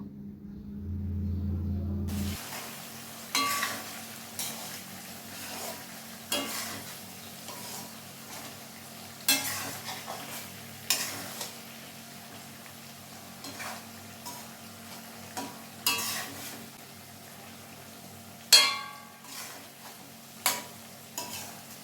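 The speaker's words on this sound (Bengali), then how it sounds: "মাছগুলো দিয়েও আমি মশলাটার সাথে একটু কষিয়ে নেব" Fried rohu fish pieces are stirred into a cumin spice paste in a pan, with soft sizzling beneath a series of sharp spatula scrapes and knocks every second or two, and no voices.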